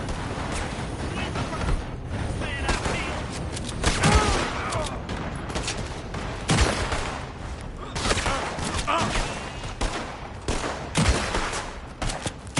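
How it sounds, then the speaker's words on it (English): Gunfire in a Red Dead Redemption 2 shootout, repeated loud cracks and bursts at irregular intervals, some near and some farther off, with voices speaking between shots. "They're shooting from that building."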